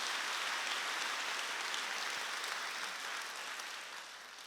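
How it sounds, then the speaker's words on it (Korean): A church congregation at a Wednesday worship service claps together in a dense, steady wash of applause that sounds faint and somewhat distant, gradually thinning toward the end. "믿는 사람만 박수 치시고"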